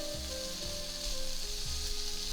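Onion and garlic fry in a pot with a soft, steady sizzle under a low hum, faint but continuous throughout with no talking.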